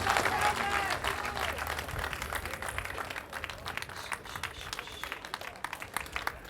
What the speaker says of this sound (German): riesiger Applaus für die German Rescue Ladies